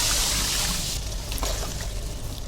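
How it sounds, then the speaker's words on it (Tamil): About five litres of water pours and splashes into a cooking pot of sautéed onions for about a second, then fades into a softer trickle and bubbling. "இப்போ ஒரு அஞ்சு லிட்டர் அளவுக்கு தண்ணீர் சேர்த்துக்கலாம்"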